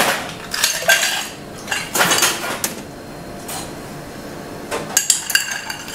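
A cocktail stirred over ice for a Tuxedo #2 in a London bar, giving bursts of clinking and rattling of ice and metal spoon against the glass, with pauses between the strokes.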